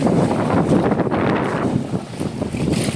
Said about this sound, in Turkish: Böyle rüzgarlı tabii doğal olarak.